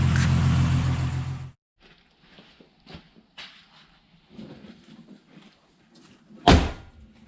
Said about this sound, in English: Better get these doors open.